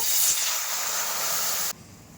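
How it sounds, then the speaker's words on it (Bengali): Water boiling hard in a wok on a stove, ready to steam elephant foot yam. It gives a loud, steady, close hiss that cuts off abruptly near the end, leaving faint background. "কি সুন্দর জলটা আমার ফুটে গেছে"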